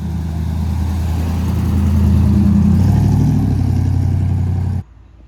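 A big V8 in a 1962 Chevy Impala drones steadily at cruising speed, a loud, continuous low rumble with faint wind noise that cuts off abruptly near the end.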